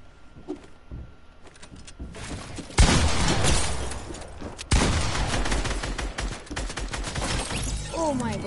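Rapid gunshots fired repeatedly in a battle royale video game, a quiet start that gives way to loud, dense bursts of fire, with a voice speaking in the background.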